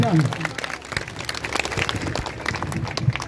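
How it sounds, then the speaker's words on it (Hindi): Clapping from a standing crowd greeting a minister at a public gathering in Bargaon, Ara, a dense irregular patter running throughout with voices talking over it. "एक बार खड़ा होकर जोरदार तालियों से स्वागत कर दीजिए"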